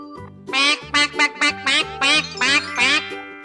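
A cartoon duck quacks in a quick run of about eight bright, nasal quacks over a short, low musical backing, close and prominent with no speech.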